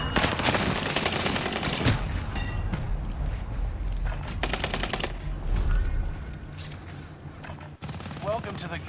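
Bursts of automatic gunfire in Call of Duty: Modern Warfare Warzone, sharp rapid volleys crackling in repeated clusters over game noise, with a player's voice talking over parts of the fighting.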